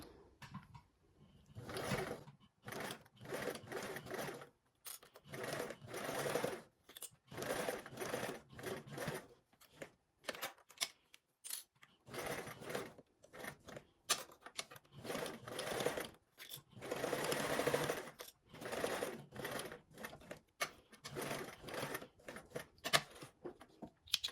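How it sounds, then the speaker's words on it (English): Sewing machine topstitching with a 1/8 inch seam allowance, close-up bursts of rapid mechanical stitching separated by short pauses, quiet overall. "I'm gonna go ahead and top stitch around it with the 1/8 seam allowance."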